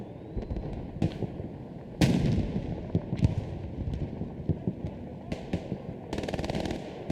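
Machine gun bursts in the World War II shooter Hell Let Loose, a German breakthrough battle: rapid crackling volleys and scattered sharp shots over steady battlefield noise, moderately loud, with a hum running underneath.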